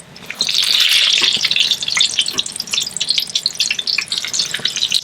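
Eggplant slices frying in hot oil give a loud, bright crackling sizzle that surges in the first seconds, then settles into dense, uneven popping and spitting, heard close up with no one speaking.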